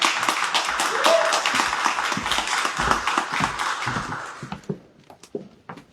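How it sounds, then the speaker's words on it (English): Applause at a community coalition press event on payday lending reform. A close group claps firmly for several seconds, then the clapping thins to a few scattered claps and stops. "A big applause for her"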